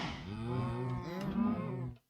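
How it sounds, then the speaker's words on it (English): Baby cows moo in Minecraft, giving one drawn-out low moo that is close and clear and ends abruptly, with no talking over it. "I still have some baby cows there"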